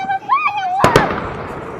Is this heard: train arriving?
no